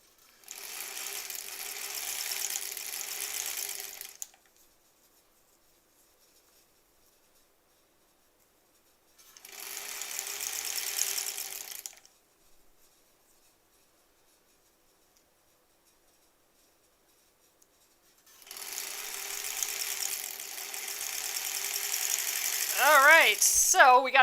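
A sewing machine stitches a granny squares quilt in three separate bursts of steady whirring, each a few seconds long with quiet gaps between, and a voice comes in at the end.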